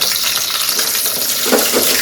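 Cooked goat blood being tempered in hot oil for a spiced curry, a loud, continuous sizzle and hiss with light stirring noise, close and alone without voices.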